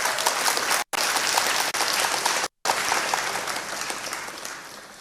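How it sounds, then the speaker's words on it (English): An audience in a hall applauds steadily, dense clapping that continues with a couple of brief dropouts and slowly fades toward the end. "If you feel like he deserves another applause, you can give it"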